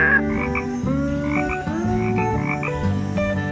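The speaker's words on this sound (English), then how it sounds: "spadefoot toad" A spadefoot toad croaks in rhythmic, overlapping bursts, near and loud, keeping up a steady chorus with no talking.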